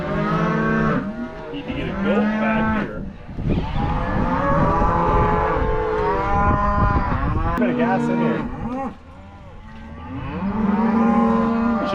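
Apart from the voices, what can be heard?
calves mooing in a pen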